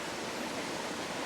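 Floodwater runoff rushes steadily through a swollen creek after a storm, a broad, even roar of water that continues without breaks and with no one speaking.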